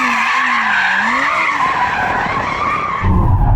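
A rear-wheel-drive Audi R8 skids loud and close, its tyres squealing in a long wavering howl over a steady engine roar, with a burst of low rumble near the end.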